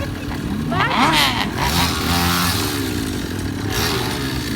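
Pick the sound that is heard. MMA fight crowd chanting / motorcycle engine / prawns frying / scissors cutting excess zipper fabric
motorcycle engine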